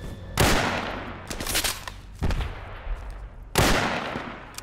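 Kar 98 bolt-action rifle shots in the Project Reality video game: three loud, sharp cracks spaced a couple of seconds apart, each trailing off in an echoing decay, with fainter shots between.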